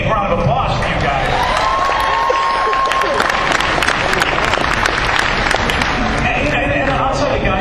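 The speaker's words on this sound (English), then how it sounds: "big round of applause for you guys" A large convention crowd at Penny Arcade Expo applauds and cheers loudly, continuous dense clapping with whoops and shouts carrying on steadily, voices mixed in throughout.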